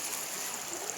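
The Batang Toru river, after flooding, gives a steady, dense rushing of flowing water for a single second, with no voices.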